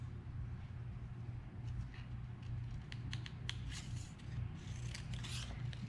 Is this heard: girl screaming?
no